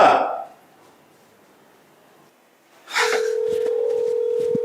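A WhatsApp video call being placed on a phone: after a brief rustle, a steady electronic calling tone starts partway through and holds, close and clear, with small clicks over it.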